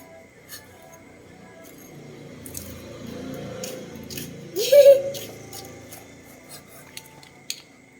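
Soft clinks and scraping of a knife against a cutting board, with a brief squeaky rub in the middle; quiet kitchen activity without speech.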